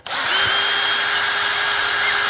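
A power drill spins steadily and loudly for a couple of seconds after a quick start, backing a screw out during a preservation repair job, with a sustained whining motor tone and no talking.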